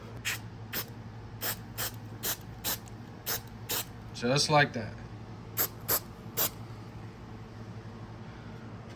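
Several short, sharp bursts of spray glue from an aerosol can while repairing a VW Beetle door panel, evenly spaced, with a brief spoken remark partway through and a steady low hum underneath.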